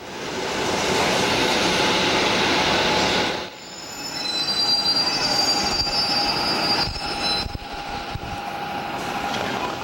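A Beijing subway train rumbles along, its wheels screeching loudly at first, then a steadier metallic roar with high squeals as it keeps moving.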